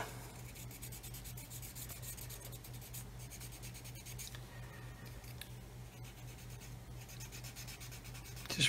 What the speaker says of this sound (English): Just rubbing away.